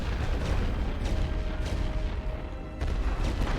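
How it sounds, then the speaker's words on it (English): Heavy artillery shells a trench on a World War I Western Front battlefield in a strategy game, heard as a constant low rumble of booms and blasts that stays loud throughout. "With the heavy guns working on this trench, their will's gonna drop"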